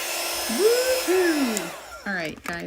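A heat tool or hair dryer blows a steady, close rush of air to dry chalk paste on a craft surface, with a whine that rises and falls as it is moved before it cuts off and a voice follows.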